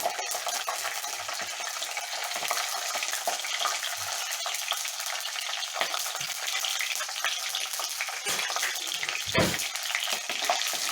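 Peanuts and cashews crackle and sizzle steadily in hot oil, with occasional scraping of a spoon stirring the pan.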